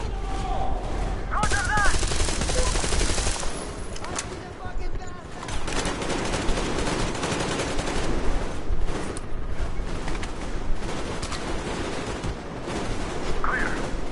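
Sustained covering gunfire from rifles and automatic weapons in the Metro Exodus video game, dense bursts roaring continuously under brief shouted voices.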